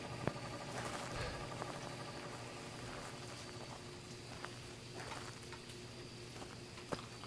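Rain in the video game Phasmophobia, a faint, steady patter under a dull ambient hum, with occasional small ticks and drips, distant and continuous without talking.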